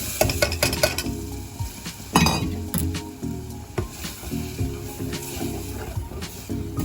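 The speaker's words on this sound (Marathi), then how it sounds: "छानपैकी हलवून घेऊया" Sambar masala is stirred in a metal pan: a spoon scrapes and clinks against the pan over a soft continuous sizzle, close and fairly loud, with no talking.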